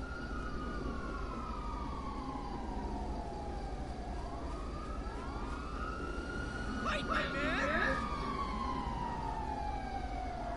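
A police siren in GTA 5 wails in long falling and rising sweeps over a steady engine drone, with a second overlapping siren tone and a brief burst of noise near the end, while people talk faintly underneath.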